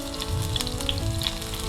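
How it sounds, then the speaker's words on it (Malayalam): Mustard seeds crackle and pop while chopped shallots fry in hot coconut oil, a steady close sizzle with scattered sharp pops throughout. "കടുകൊക്കെ പൊട്ടി ഉള്ളിയൊക്കെ മൂത്തിട്ടുണ്ട്"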